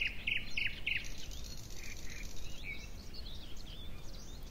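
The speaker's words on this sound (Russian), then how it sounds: "Пташечки співають." Small birds chirp and sing in short bursts over a soft, steady background hiss of insects or crickets at a foggy countryside dacha in Cherkasy region. The calls are fairly faint and distant, and no one speaks.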